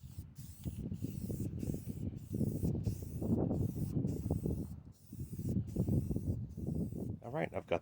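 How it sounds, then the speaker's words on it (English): Automotive primer is sprayed onto bare metal trailer parts in a series of short, hissing bursts with brief pauses between them, close and fairly loud over a low background murmur. "use an automotive primer to prime any of the bare metal spots"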